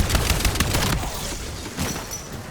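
Rapid automatic gunfire from a weapon in the video game Black Ops 4, a dense loud burst of shots in the first second, then quieter scattered shots and game noise.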